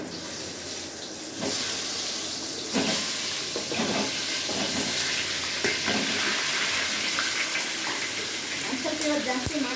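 Mustard seeds, cumin and curry leaves hit hot oil and burst into a loud, close sizzle after a quieter start. Small popping crackles keep going under a continuous hiss.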